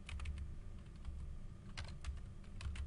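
Close, quiet computer-keyboard typing while a layer name is entered in an image editor, with bursts of rapid key clicks separated by short pauses.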